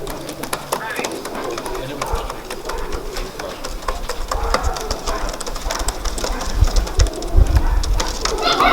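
Bowden racing pigeons coo in a loft in spring. Soft rolling calls repeat close by while people talk in the background.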